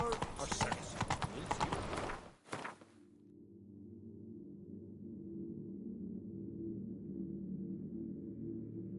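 Roach, the horse in The Witcher 3: Wild Hunt on PS5, gallops in quick rhythmic hoofbeats at the start, then the sound cuts off abruptly, leaving a low steady hum.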